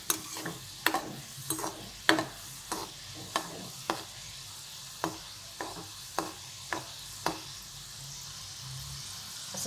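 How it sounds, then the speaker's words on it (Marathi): Sweet sev frying in oil on a low flame, a gentle background sizzle broken by a dozen sharp scraping stirs of a utensil in the pan at irregular intervals. "बारीक गॅसवर तळून घ्यायचं, मग ते आतमधून कच्चं राहत नाही"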